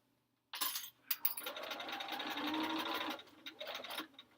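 A sewing machine stitches quilt blocks together, a close, steady whirring run of rapid needle strokes lasting about three seconds, preceded by a click and ending with a few short bursts.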